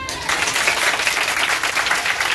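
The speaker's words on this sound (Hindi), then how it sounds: "जोर से तालियां हो जाए" A church congregation bursts into loud applause after a brief moment of quiet, then keeps clapping densely and evenly at close range without a break.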